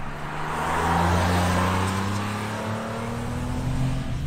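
Porsche twin-turbo engine pulling at full throttle on a damp road as the second turbo comes in near 4,500 RPM, a steady droning rise heard from inside the cabin, moderately loud and without talk.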